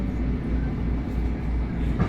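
NYC subway train starting to move, a steady low rumble and rolling rail noise throughout, close and continuous with no voices.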